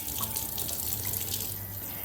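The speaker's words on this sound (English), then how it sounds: "And what I'll do is a little bit of cold water." Cold water runs from a kitchen tap into a pan, a steady close splashing stream that stays even and fairly quiet throughout, with nobody speaking.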